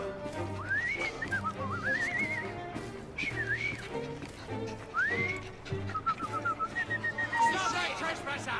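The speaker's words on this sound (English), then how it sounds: "I've just learned to whistle." A person whistles a melodic tune in Assassin's Creed Syndicate, rising and falling phrases repeated over about eight seconds amid murmuring crowd chatter and a horse nearby.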